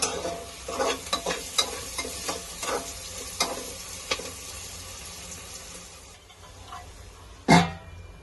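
Onions sauté in a pan for soybean pulao, a soft sizzle under repeated scraping stir strokes, close by, ending with one sharper clatter.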